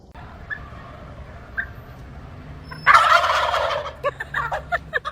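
Turkeys on a farm gobble in a loud, rippling burst that breaks out midway after quieter bird calls, followed by several shorter gobbles close by.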